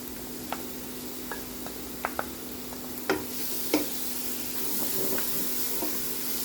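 Chicken with garlic, black raisins and carrot being stirred in a hot pan, a soft steady sizzle under a scattering of faint scraping and clinking spoon strokes, close and quiet with no talk.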